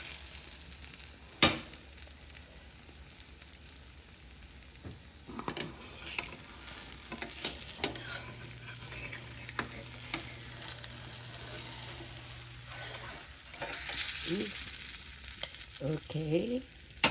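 Masala omelette frying in a pan, a steady close sizzle with scattered crackles, sharp clatters and scraping as it is handled and flipped.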